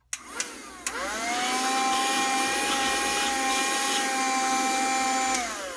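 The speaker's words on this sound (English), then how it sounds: "I can feel so much more suction coming from this vacuum." Cordless handheld vacuum, an IonVac or Black and Decker Dustbuster, clicks on and spins up into a loud, steady high-pitched whine that holds for several seconds before starting to wind down.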